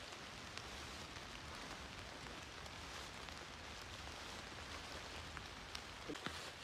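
Rain falls steadily during a squirrel hunt in the woods, a constant soft hiss of drops on leaves and surfaces with a few sharper nearby drips, faint and continuous.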